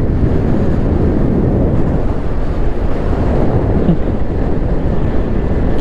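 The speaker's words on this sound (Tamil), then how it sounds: "காற்றும் கூட பயங்கரமாக இருக்குது." Strong, cold wind roars steadily and loudly across the microphone on a mountain road in Ladakh, a constant low rumble with no break and no voices.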